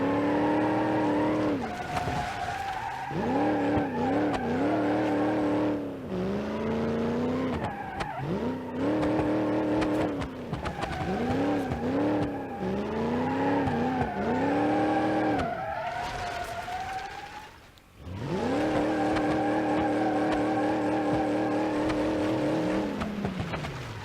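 Car in the BeamNG.drive driving game skidding and sliding, with loud engine revving and tire squeal rising and falling in repeated sweeps, a brief lull near the middle before the engine roars back up.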